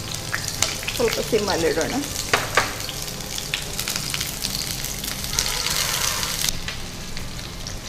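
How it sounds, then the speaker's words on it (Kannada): A big chopped onion hits hot oil in a pan and crackles into a loud, busy sizzle with stirring clatter, then settles into steady frying while a voice speaks briefly over it. "ಕಟ್ ಮಾಡಿ ಇಟ್ಕೊಂಡಿರೋದೆಲ್ಲ ಆನಿಯನ್ಸ್ ಹಾಕ್ತೇನೆ."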